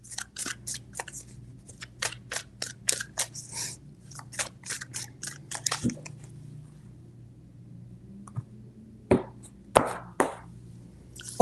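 Tarot cards being shuffled by hand in a series of quick crisp riffling bursts over a faint steady hum, followed by a few sharper isolated slaps as the deck is set down.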